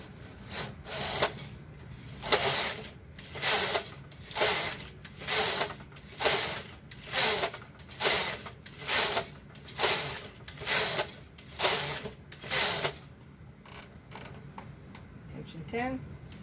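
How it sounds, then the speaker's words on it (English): An Sk 560 circular sock knitting machine knits rows of waste yarn with steady, rhythmic mechanical bursts, about a dozen evenly spaced cycles, fairly close and clear with a quiet background between strokes. "now we're going to knit several rows of waste yarn onto the bed"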